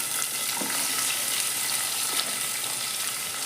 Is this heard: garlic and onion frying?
yes